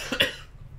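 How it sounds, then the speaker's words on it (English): A single short, sharp cough up close, fading quickly into quiet. "so I cough"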